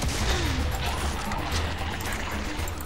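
Assault rifle fire in Serious Sam 3: BFE rattles in a continuous, loud stream, blended with dense crashing and booming action noise and no pauses.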